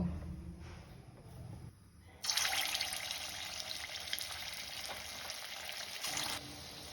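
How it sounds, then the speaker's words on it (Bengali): Raw-banana koftas frying in hot oil in a wok give a steady, close hiss and crackle that jumps louder after a couple of seconds and keeps sizzling continuously. "এবার একটা কড়াইতে তেল গরম করে আমি এগুলো ভেজে নেব।"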